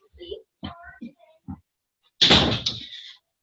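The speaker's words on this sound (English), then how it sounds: "I'm going to shut my door." A door is shut indoors in a home, a single loud close with a brief rattle following several short bursts of someone talking nearby.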